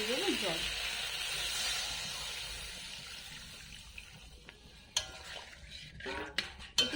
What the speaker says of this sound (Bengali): এবার পরিমাণ মতো দিয়ে দেবো জল